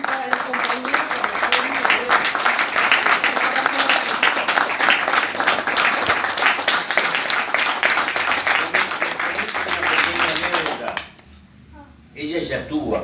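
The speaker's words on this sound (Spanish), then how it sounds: "le quiero pedir un aplauso para todos" Audience applause in a small theatre hall, steady dense clapping with voices underneath, which stops abruptly near the end before a brief quiet and a return of sound.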